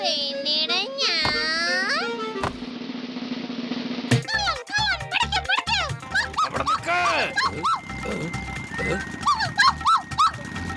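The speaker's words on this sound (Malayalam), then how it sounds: "ഈ ഡോഗ് എന്തിനാ എന്റെ പുറകെ ഓടി വരുന്നേ?" Cartoon dog barks and yips in short bursts while chasing a character, mixed with lively animated voices and music throughout.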